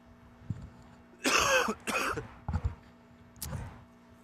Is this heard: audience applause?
no